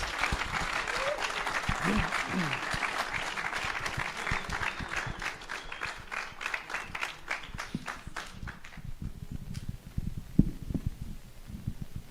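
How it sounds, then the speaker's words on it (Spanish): Audience applause after a talk: a dense, sustained round of clapping from a seated crowd that tapers off after about eight seconds, leaving scattered claps, room noise and a few faint voices. "Un aplauso, por favor, al ingeniero."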